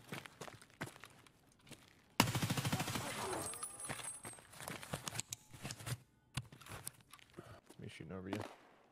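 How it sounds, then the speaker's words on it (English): Gunfire in Escape From Tarkov, a sudden loud burst of rapid automatic shots followed by scattered single cracks and shuffling footsteps, with quiet voices talking between shots. "Me shooting over you."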